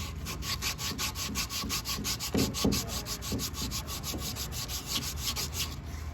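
Rhythmic back-and-forth rasping of emery cloth sanding into the creases of a painted piece, a steady scratchy stroke pattern repeated close up with a few heavier scrapes midway and no talking.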